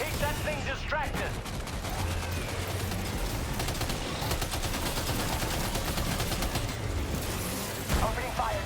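Gunfire in Death Stranding 2 sounds as dense bursts of rapid shots and mechanical clatter, continuous and fairly loud throughout, mixed with a game soundtrack and intermittent voices.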